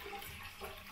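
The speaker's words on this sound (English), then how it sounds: "Eventually we can get it to flush and the water is now" A Dudley Cascade toilet cistern flushing, a short, faint rush of draining water with a soft hiss and gurgle.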